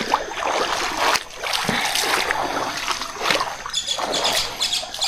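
Water splashes and sloshes continuously as someone wades across a river on the Rizal–Quezon Province boundary near Tanay, close and fairly loud with irregular surges of splatter and trickling.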